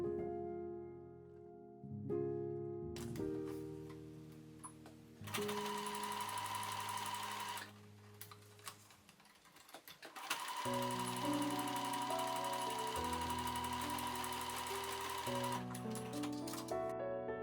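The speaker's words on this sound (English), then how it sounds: "Then join the ends using a zigzag stitch." Sewing machine zigzag stitching to join the ends of a tiered skirt, running in several bursts of rhythmic whirring with brief stops and starts between them, steady and close.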